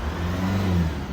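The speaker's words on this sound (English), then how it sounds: "See how it's like bouncing around at lower RPMs?" A Holden engine idles roughly at low RPM with a fault, its steady mid-pitched hum wavering and bouncing up and down over about a second, close and clear with no voices.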